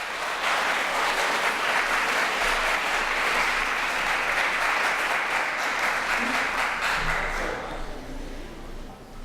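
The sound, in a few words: audience applause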